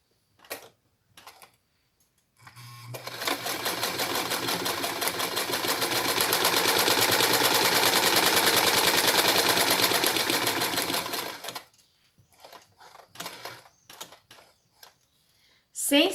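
A sewing machine stitches along the edge of fabric in one long, steady, close run of fast rhythmic clatter lasting about nine seconds. Light handling taps come before and after it.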